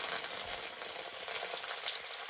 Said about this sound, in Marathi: त्याच्यानंतर आता हे तळून घेऊ राहिले तेलामध्ये